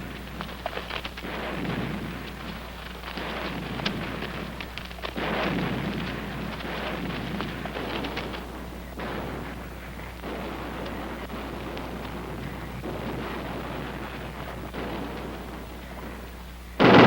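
Distant naval gunfire from a battleship bombarding a Korean shoreline, heard as a continuous low rumbling roar with repeated dull booms rolling over one another, steady and far off for the whole stretch.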